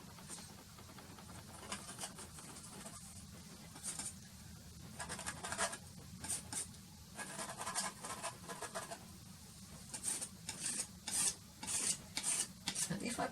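Paint is scraped across a canvas over tar gel, giving a series of rough, rasping drags that grow more frequent and louder toward the end, close and dry against a quiet background.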